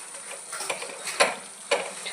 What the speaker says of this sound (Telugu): సో కొంచెం ఇవి తిప్పేద్దాం.